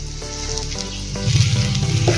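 Boiled potatoes dropped by hand into a pan of fried spices for a fasting tikki, setting off a steady loud sizzle and crackle that swells midway, close up with no talking.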